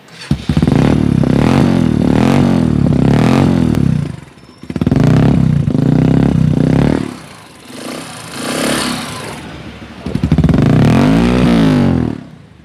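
Motorcycle engine fitted with an aftermarket Akrapovic exhaust, revved in several loud bursts with brief dips between, a deep throaty roar rising and falling up close, no talking.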